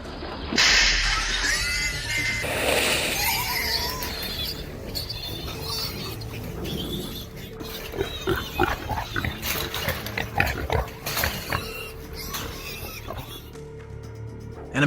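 Feral hogs grunt and snuffle repeatedly in bursts, with scuffling movement and a voice speaking intermittently in the background.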